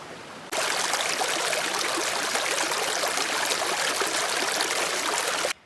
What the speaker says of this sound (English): We're taking a short break by this lovely creek, staying hydrated.